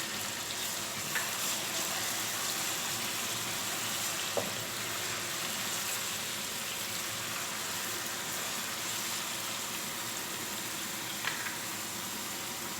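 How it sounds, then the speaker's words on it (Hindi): Grated onion sizzling in hot oil in a pan for dhaba-style daal mash, a steady loud hiss and crackle with a faint clink or two, no talk. "अभी हम इसमें प्याज डालते हैं। प्याज को हमने कद्दूकस कर लिया था।"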